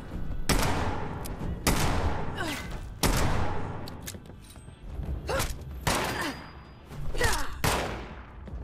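Fallout 76 gunfire against an enemy, several loud sharp shots and short bursts spaced a second or so apart, each ringing out with a trailing echo, no talking.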